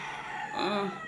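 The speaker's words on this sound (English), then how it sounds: "It's chicken." A rooster crows once at a distance at 5 a.m. in Lagos, its drawn-out call rising over a faint background hum.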